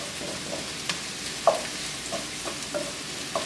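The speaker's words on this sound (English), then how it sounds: "Just stir it around" Beef empanada filling is stirred around in a hot pan, with a soft steady sizzle broken by scattered scraping and clicking taps of the spoon, close and moderately quiet, with no talking.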